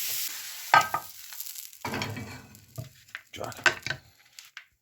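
Ground beef frying in a pan under a sheet of lavash, soft sizzle broken by a few sharp scrapes and clatters of a utensil against the pan, close, with faint background voices.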